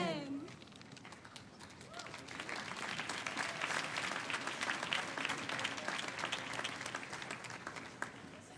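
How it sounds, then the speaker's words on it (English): Sustained audience applause at the 2019 inauguration of Colorado governor Jared Polis, rising from light clapping into a dense, loud ovation lasting several seconds. "Please join me in giving another big round of applause for our new governor, Jared Polis."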